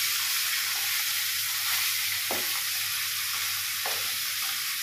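A fish head frying in a little oil gives off a strong, steady hiss with a few soft scraping stirs, loud and close, with no one speaking.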